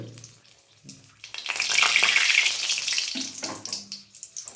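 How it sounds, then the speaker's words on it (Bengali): Four dried red chilies hit hot mustard oil in a kadai, setting off a sudden close sizzle that swells loudly for a couple of seconds and then settles into fainter crackling. "আমি এখন এগুলো কড়াতে তেল দিয়েছি সর্ষের তেল আর তেল গরম হয়ে গেছে আমি দেবো এখন চারটে শুকনো লঙ্কা"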